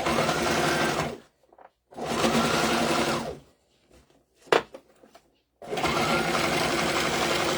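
Sewing machine stitching a rifle bag in a home sewing shop: three loud bursts of rapid stitching separated by pauses, with light handling clicks and a brief knock in the quiet gap.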